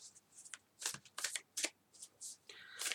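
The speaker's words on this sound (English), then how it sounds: "I'm shuffling" Oracle cards are shuffled in a series of quick, crisp riffling bursts with short pauses between them, close and fairly soft.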